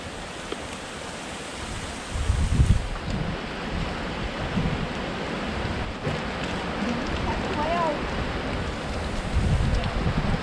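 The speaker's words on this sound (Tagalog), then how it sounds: "Mahangin na guys." Blustery coastal wind in Occidental Mindoro rushes and buffets the microphone continuously, with low rumbling gusts and a faint surf-like wash in the background.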